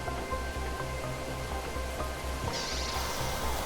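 Heavy rain pours steadily in the video game The Planet Crafter, a dense, even patter under a faint low rumble, with no voices.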